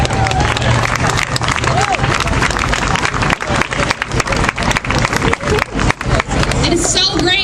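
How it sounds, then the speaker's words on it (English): Audience at a Cincinnati event about small businesses bursting into loud, sustained applause, dense clapping filling the room with crowd murmur and a voice speaking over it. "Please give her an applause."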